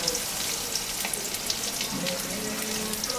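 Pointed gourd and potato fry in hot oil with bay leaf and salt, giving a continuous bright sizzle with a few soft clinks and light stirring noises.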